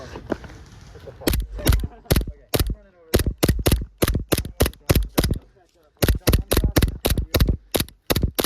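Pistol gunshots ring out in a video game shooter as a rapid string of crisp, evenly spaced cracks, loud and close, with short pauses between bursts.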